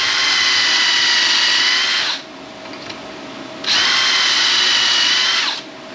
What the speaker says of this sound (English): And then I drill it.